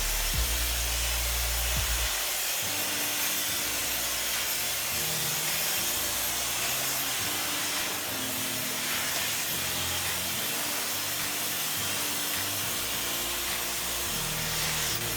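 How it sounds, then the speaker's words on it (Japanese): A hand-held hair dryer blows steadily on a finished layered bob in a hair salon, a continuous loud airy hiss with rustling of hair running for about fifteen seconds, without voices. "このようにドライヤーで簡単に乾かすだけで"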